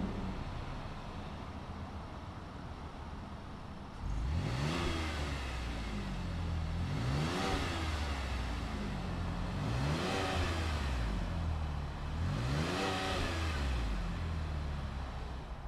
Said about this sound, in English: why don't we go ahead, fire it up, and see what it sounds like.